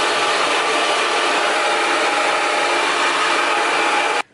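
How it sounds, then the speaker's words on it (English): A blow dryer on its cool setting runs steadily at close range with a constant broadband whoosh, then cuts off abruptly near the end. "I have my blow dryer here, and I'm just gonna put it on a cool setting."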